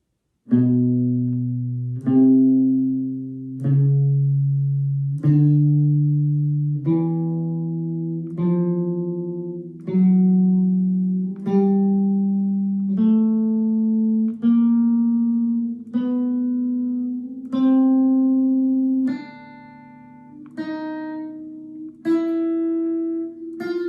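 Single guitar notes rise and then fall one at a time at an even, unhurried pace, each note left to ring before the next, with no talking.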